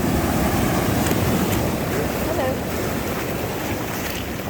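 Ocean surf rushing and surging continuously on an Oregon beach, a steady broad wash of water close by, with wind buffeting the microphone.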